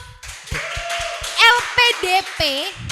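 Hand clapping on an Indonesian talk show, a handful of sharp, evenly spaced claps close by, with voices talking and exclaiming over them.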